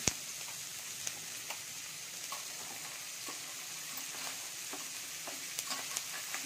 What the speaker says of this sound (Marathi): आता मी या सगळ्या भाज्या चांगल्या परतून घेणार आहे.